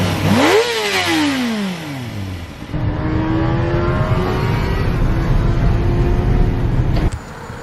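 A 2007 Kawasaki Ninja ZX6R sport bike, revived after sitting ten years, revs sharply close by, its engine note shooting up and falling back, then settling into a steady higher-pitched drone that pulls away before cutting off.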